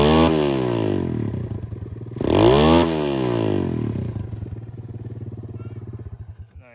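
A freshly repaired pit bike engine runs loud and close, revving up and down in a rough, clattery buzz before settling toward idle, with no talking.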